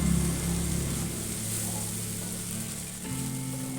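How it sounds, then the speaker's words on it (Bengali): Spice paste with turmeric and salt frying in a pan for a green pea malai dish, a constant dense sizzle with a lower rumble shifting partway through, no voices over it. "এবার আমি মশলাটা খুব ভালো করে কষিয়ে নেব।"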